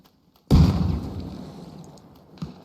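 A fragmentation grenade detonates during a military field training exercise: a sudden loud blast with a rumbling decay lasting about two seconds, then a smaller thump near the end.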